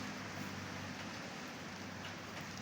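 Steady rain pours during a motorcycle trip through Wonosobo, a dense, even hiss of falling water that holds at the same level throughout with no voices.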